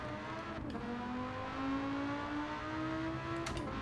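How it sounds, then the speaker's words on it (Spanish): Lamborghini Gallardo engine in Gran Turismo 7 during a one-make race event, a steady revving drone climbing gradually in pitch as the car accelerates, continuous and fairly loud with no talk over it. "La aceleración que tiene,"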